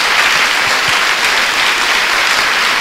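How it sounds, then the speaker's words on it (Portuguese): Congregation applauding in a church, a steady dense wash of clapping from many hands that stays even and full throughout the short stretch. "Dê uma salva de palmas ao nosso Deus"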